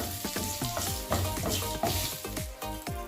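Turmeric powder sizzling steadily in oil in a pan for a Kerala erissery curry, with repeated scraping strokes of a spoon stirring at an even rhythm, close and fairly loud.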